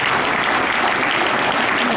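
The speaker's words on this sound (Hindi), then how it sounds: "ताली बजाओ इस बच्चे के लिए" Students at a school bicycle-distribution event clap for a newly admitted child, producing dense, loud, steady applause from a whole room of hands that fills the two seconds without a break.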